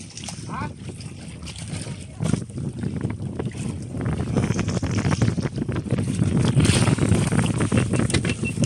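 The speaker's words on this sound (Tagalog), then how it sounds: "lumakas na naman ang hangin tapos dilim" Strong wind roars and buffets the microphone over open water, with a boat's rumble and occasional splashes; voices can be heard faintly beneath the gusts.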